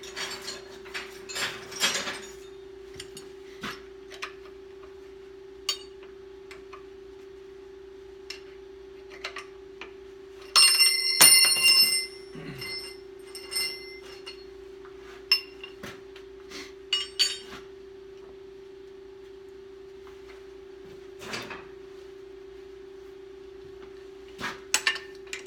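Metal hand wrenches clatter and clink as they are searched for and picked up in a workshop, a scattered run of close, sharp taps with one louder burst of rattling metal midway, over a steady low machine hum.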